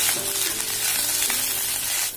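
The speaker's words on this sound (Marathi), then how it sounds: "पाच ते सात मिनिट छान आपल्याला ह्या परतवून घ्यायच्या आहेत" Cluster beans sautéing in a kadhai, a dense, even hiss of frying close up, loud and continuous with faint stirring scrapes, easing off just at the end.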